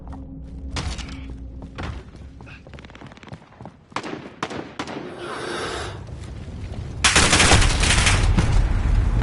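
Dense, loud bursts of rapid gunfire and thudding impacts in a Call of Duty firefight, growing heavier toward the end as the shooting becomes a continuous roar.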